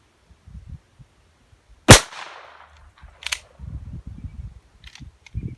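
A single sharp report from a Taurus TX22 .22 pistol firing Winchester ammunition, loud and near with a short decaying tail, followed by faint handling clicks and low rustling.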